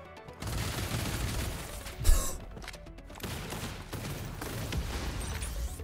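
Minigun fire from the video game BlazBlue Entropy Effect, a steady dense rattling barrage running through most of the stretch with a sharp louder burst near the middle, with no talking over it.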